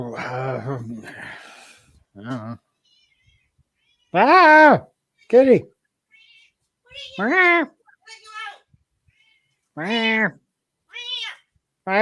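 A house cat meows insistently to be let out through a door, a series of loud, close, drawn-out cries separated by pauses, with a person's brief voice early on.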